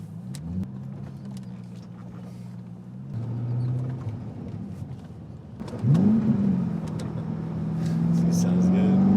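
A Chevrolet C5 Corvette drives with a low, steady engine drone, rising into a louder rev partway through and building again near the end, with voices talking over it.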